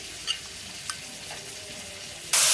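Spices for a chicken and potato curry sizzle steadily in a pan while being stir-fried, a close continuous hiss with a couple of small scraping ticks, then a sudden loud burst of crackle at the very end.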